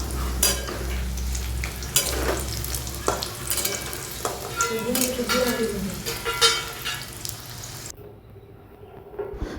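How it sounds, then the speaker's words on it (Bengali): Bitter gourd pieces coated in turmeric and salt going into hot oil for shukto, an uneven frying sizzle with clattering stirs and knocks, ending in near quiet after the last clatter. "এবারে গরম তেলের মধ্যে ওই হলুদ লবণ মাখা করলাগুলোকেও দিয়ে দেবো।"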